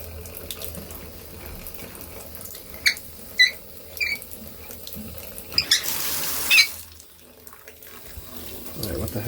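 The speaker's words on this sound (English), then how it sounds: "Now that diverter, that's letting a lot of water out" Water streams from a leaking Price Pfister shower diverter in a steady running wash, broken by a few sharp squeaks and a brief louder surge, then dropping back to a quieter flow.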